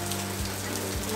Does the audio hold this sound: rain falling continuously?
yes